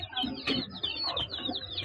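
Birds call inside a loft of Madras pigeons, with close, quick, squeaky chirps and short rising calls repeating over a low background rustle.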